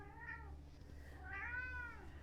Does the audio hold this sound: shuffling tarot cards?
no